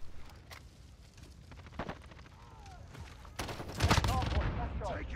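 Gunfire from a FAMAS rifle in Call of Duty: Modern Warfare comes in several short bursts, with a denser, louder volley near the end over steady game background noise.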